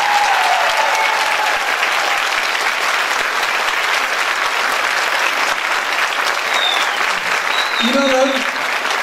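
A theatre audience gives strong, sustained applause: dense, steady clapping that fills the whole stretch, with a brief voice rising over it near the end.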